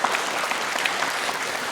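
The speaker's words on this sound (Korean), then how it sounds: "박수로 한번 격려하겠습니다." A church congregation at a Sunday worship service applauds a pastor newly appointed as associate minister, a continuous wash of clapping from many hands in a reverberant hall.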